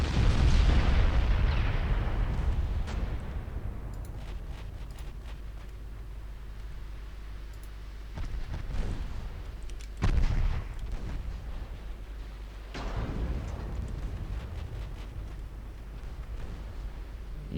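Heavy battlecruiser guns boom against transports in the naval game Ultimate Admiral Dreadnoughts, opening with a loud rolling blast, then repeated deep detonations near 8, 10 and 13 seconds over a constant low rumble.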